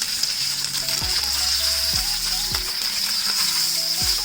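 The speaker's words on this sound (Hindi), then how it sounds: "ये मैंने सरसों का ऑयल मैंने गरम करना रखा हुआ था और इसमें मैं बैंगन डाल दूँगी।" Brinjal frying in hot mustard oil hisses with a dense, steady sizzle, close and loud, while occasional utensil clinks and stirring sounds break through at a regular pace.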